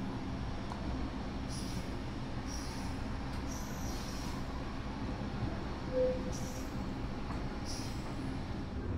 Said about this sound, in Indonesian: Sekarang jam 17:33 berangkat lagi dari stasiun Kertosono.